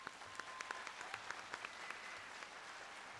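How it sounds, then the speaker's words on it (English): Audience applause at a nursing pinning ceremony, a steady wash of many hands clapping for about three seconds with sharper individual claps standing out, fairly quiet and without talk. "give these guys a round of applause."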